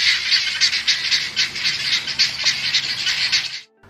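A flock of guinea fowl raises harsh, rapid alarm calls in a dense, rhythmic chatter of repeated squawks, loud and close, continuing steadily before stopping abruptly near the end.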